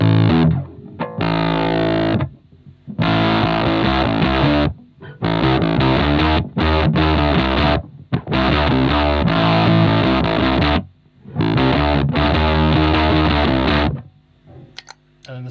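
Bass guitar played through an Ibanez FZ7 fuzz pedal with low drive and a touch of damage, giving a snotty, scuzzy, fuzzy driven tone in loud riff bursts separated by short pauses.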